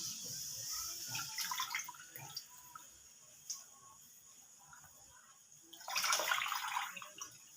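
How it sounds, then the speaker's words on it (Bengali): Boiled chowmein noodles are strained, with water pouring and dripping in soft splashy bursts, a louder rush near the end, and quiet dripping in between. "চাউমিনটা ছেঁকে নেব"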